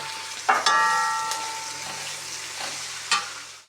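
Onion, green chili and curry leaves sauté in a pan with a continuous close sizzle, broken by a couple of sharp metallic clinks and stirring scrapes.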